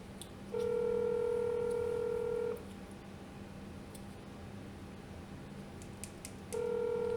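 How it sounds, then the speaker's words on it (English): Telephone keypad dialing tones from a phone during a cold calling session: a steady two-tone beep lasting about two seconds, a pause with low background hum, then another tone starting near the end, clear and close. "this is the first time I've dialed through my phone"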